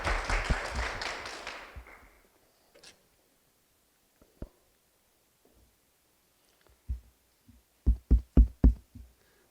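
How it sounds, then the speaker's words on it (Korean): Scattered, sparse audience clapping at a conference talk fades out after a couple of seconds, then a few isolated claps and a short burst of rhythmic claps follow. "박수로 무대로 모시겠습니다."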